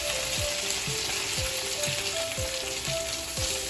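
Gluten-free chicken cutlets for chicken francese sizzle steadily in a pan, a constant close frying hiss with faint repeated ticks and pops, no voices.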